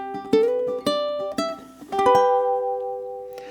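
A few plucked ukulele notes and strummed chords close a short phrase, the final chord ringing out and fading.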